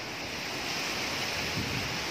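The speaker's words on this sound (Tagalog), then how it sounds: "Bugso-bugso lang po ang ulan at hangin" Typhoon Rolly's gusty wind and rain roar as a dense, constant rushing wash, loud and close to the microphone, with no pauses or voices.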